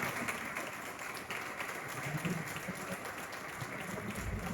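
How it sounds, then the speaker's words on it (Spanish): Faint, distant audience applause after a talk at a cultural society, a steady wash of clapping held at low level for several seconds. "Simplemente pido un aplauso para ella"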